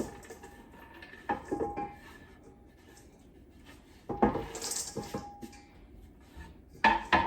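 Chopped walnuts and pecans tumble into a pan for banana bread granola, brief clattering rattles and scrapes in separate bursts against quiet kitchen background.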